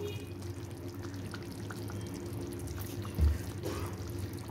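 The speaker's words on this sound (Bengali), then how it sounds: "এবার আমি একটু কাঁচা সর্ষের তেল দিয়ে দেবো।" Raw mustard oil is poured into a boal fish curry made with mustard, a soft, faint trickle over a low, steady kitchen hum, with one brief louder bump partway through.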